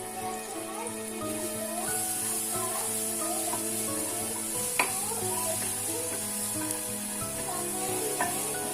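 Masala spices roasting in a pan for baingan bharta give off a steady, soft sizzle with faint stirring, running beneath a layer of tonal, melodic background sound.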